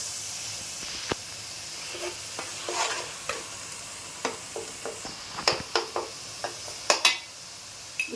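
Turmeric going into onion, ginger and masala frying in a pan for red lentil kichidi, a steady soft sizzle with irregular scraping and stirring clicks that grow busier and sharper toward the end.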